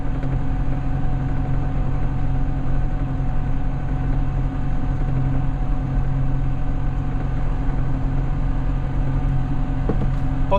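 A steady, low Claas Nexos 210VL orchard tractor engine drone runs continuously and evenly throughout, with no changes in pitch or loudness.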